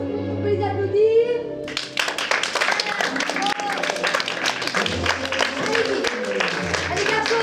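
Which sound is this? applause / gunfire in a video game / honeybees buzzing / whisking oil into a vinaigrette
applause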